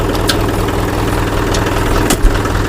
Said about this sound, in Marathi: तिकडे घेतो मी ट्रॅक्टर. केलं चालू काय माहिती चालू केलं की